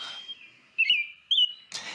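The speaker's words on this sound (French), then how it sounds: "Le merle d'Amérique." Short whistled chirps, two clear bright notes with brief pauses between them, thin and fairly close, in the manner of an American robin's song.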